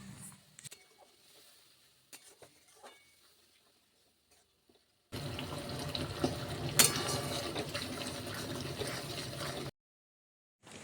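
Hot water poured into a pan of spice paste fried with tomato, coriander and chilli powder for a Bengali pointed gourd curry, a steady loud pouring and sizzling rush of about four seconds after quieter kitchen clatter.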